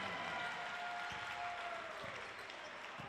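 Crowd applause at a high school basketball game between St. Charles East and Thornridge, a steady broadband clapping wash held at even level throughout, with faint squeaks and a whistle-like tone running beneath.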